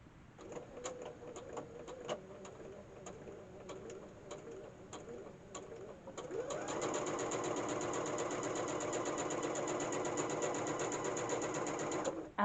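Sewing machine stitching a holiday wallet with the needle moved over to sew close to the edge, a faint ticking start then a steady, continuous fast whirr of stitching for the second half, close by.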